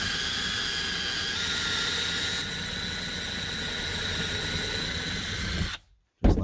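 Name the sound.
drill boring screw hole in wooden euchre box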